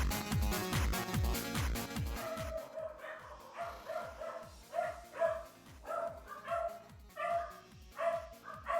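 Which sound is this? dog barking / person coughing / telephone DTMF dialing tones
dog barking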